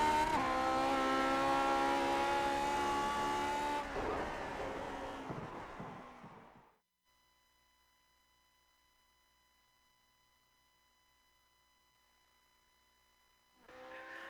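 A Lotus 49 race car lapping Circuit Park Zandvoort in the game Grand Prix Legends, a loud sustained engine howl that fades away, followed by near silence with a faint steady tone before the engine returns briefly.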